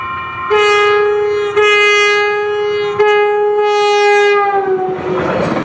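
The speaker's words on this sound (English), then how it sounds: "I caught this southbound front runner where the crew actually did a sequence" Southbound FrontRunner commuter train sounding a sequence of loud horn blasts nearby, several long chords in a row with short breaks, as the train rumbles past.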